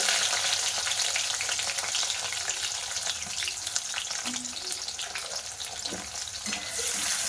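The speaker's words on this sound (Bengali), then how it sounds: "পেঁয়াজটা লাল লাল করে ভাজা করে নিয়েছি" Chopped onions fry in hot oil in a pan, giving a dense, loud, continuous sizzle up close with occasional soft stirring scrapes.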